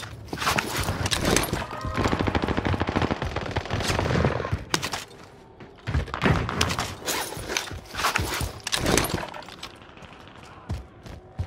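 Dense gunfire in Call of Duty Warzone on Rebirth Island, with a sniper rifle in use, bursts of loud rapid shots and impacts in clusters across several seconds, separated by brief lulls.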